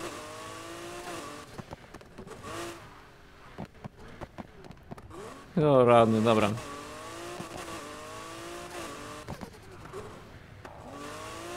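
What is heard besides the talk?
loud car engine revving, video game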